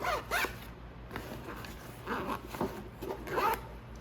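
A zipper on a tactical fanny pack is pulled open in a few short rasping strokes, close and fairly quiet, with no talking.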